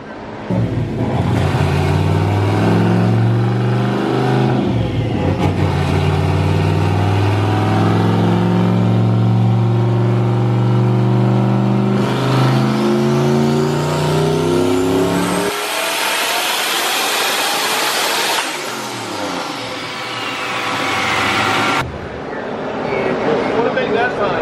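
A stock turbocharged 5.3 LS V8 in an LS-swapped Infiniti screams on a dyno, pulling through rising revs in long sweeping runs with a turbo whine, loud and close, then dropping off before revving again.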